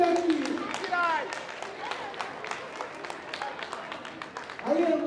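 An audience at an adult costume contest breaks into scattered clapping that runs for several seconds while a host speaks over it through a microphone.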